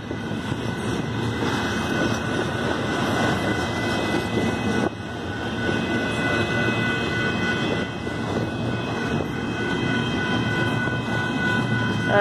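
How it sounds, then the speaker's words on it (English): Union Pacific 8097 leads a freight train past in rural Saint Elmo, Illinois, a steady, loud, continuous rumble and clatter of wagons rolling close by. "One of those e-bells on the train. Union Pacific 8097."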